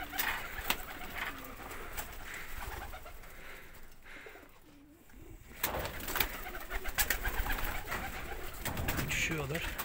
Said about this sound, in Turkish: Buraya arada sırada dikkat ederseniz çok güzel güvercinler geliyor.